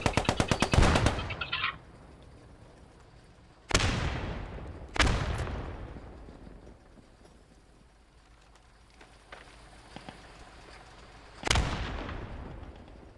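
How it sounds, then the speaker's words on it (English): Grenade explosions in the war game Post Scriptum, several loud, sharp blasts spaced seconds apart, each followed by a decaying rumble, with a quick burst of rapid cracks at the start. "Let's chuck some grenades at it for good measure"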